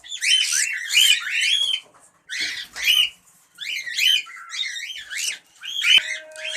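Cream cockatiels kept in breeding pairs give repeated bright chirps and whistled calls in short bursts, fairly close and loud, with brief gaps between the phrases.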